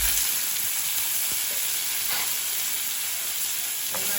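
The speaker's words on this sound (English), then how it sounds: "So first I'm going to go in with my ginger and my garlic. Then my pineapple." Ginger, garlic and pineapple hit hot oil for a sweet and sour chicken sauce, setting off a steady, bright, close sizzle that runs unbroken, with a few soft clicks of the pan and utensils and no talking.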